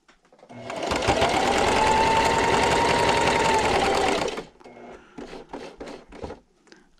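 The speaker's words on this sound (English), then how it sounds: "So I'm going to sew up until my corner." A sewing machine stitches a table runner made from 2 1/2 inch strips, starting up and running in one fast, steady burst for about four seconds before stopping, followed by a few light clicks and handling noises.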